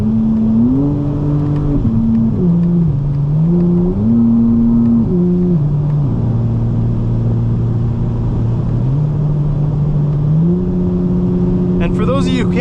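Modded 2025 BMW M4 CS engine droning steadily under load, its pitch stepping up and down repeatedly through gear changes while driving hard, with a voice talking over the continuous rumble.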